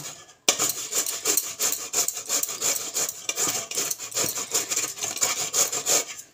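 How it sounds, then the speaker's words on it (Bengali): Bottle gourd rubbed on the small-holed side of a hand grater for a sweet gourd kheer, a rapid run of close, scratchy rasping strokes starting after a brief silence and continuing steadily without talk. "আমি গ্রেটারের সাহায্যে লাউটাকে এভাবে প্রথমে গ্রেট করে নেব, ঘষে নেব"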